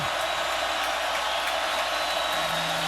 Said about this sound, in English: Kaiser changing the play here as Death Valley gets louder.